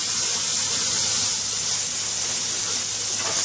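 Red onion tipped into roasting cumin seeds in a pan for a vegan mung bean breakfast, a steady, dense sizzling hiss held close and fairly loud for a few seconds, no speech.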